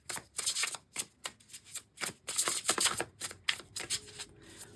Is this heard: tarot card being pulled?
yes